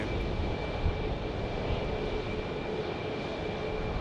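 A Southwest Airlines airliner arriving at Phoenix Sky Harbor Airport produces a steady broad engine roar with a faint whine, fairly close and constant, with no speech.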